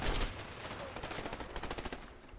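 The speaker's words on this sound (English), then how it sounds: "That's why they're shooting at you." Video game gunfire from A Way Out crackles in dense, rapid bursts like automatic weapons, fairly faint and noisy, continuing throughout without clear pauses.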